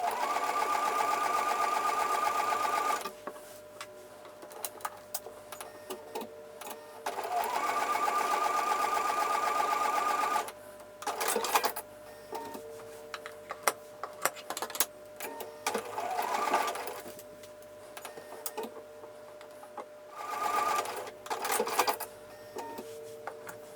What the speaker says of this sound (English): I'm going to take those over to the sewing machine and sew with a 1/4 inch seam